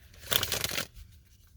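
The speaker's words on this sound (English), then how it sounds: "I'm going to do a good shuffle here for you guys." A deck of tarot cards is shuffled once in a brief, soft riffling burst lasting under a second, close to the microphone in a quiet room.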